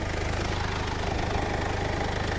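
The 1.8-litre diesel engine of a 2013 Mercedes B180 idles steadily nearby, a low, even, knocking rumble that continues without change and with no one speaking.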